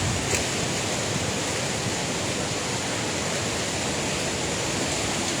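The Flumen waterfalls at Saint-Claude, swollen with snowmelt, roar as a dense, steady rush of falling water, loud and unbroken from start to end.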